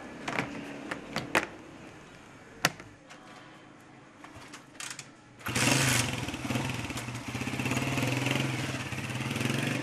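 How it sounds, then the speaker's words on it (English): A motorcycle moves through heavy traffic in Tehran, with scattered clicks and knocks followed by a loud, close engine that revs steadily with a rapid pulsing throb. "He takes to his motorcycle. That's the only way to get through the heavy traffic in the Iranian capital."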